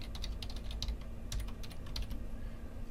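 Rapid typing on a computer keyboard, a close, steady run of light key clicks with short pauses while Python import code is entered, heard alone with no talk.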